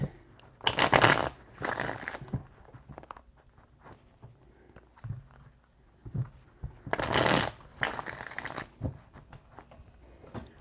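Two short bursts of tarot cards being shuffled, several seconds apart, crisp and close, with quiet handling noises in between.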